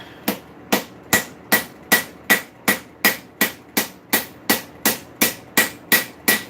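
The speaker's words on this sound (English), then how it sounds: "Yeah, I'm using the ball peen hammer." Ball peen hammer striking hot metal while forging a nail header, ringing out in about seventeen sharp, evenly spaced blows at a steady rhythm, close and loud with no talk.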